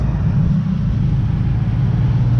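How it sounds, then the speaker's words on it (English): A truck rumbles past close to an open, doorless 1984 Toyota Land Cruiser fire truck conversion, a steady loud low roar that holds for the whole stretch with no talking. "Trucks riding by you hit different when you don't have a door."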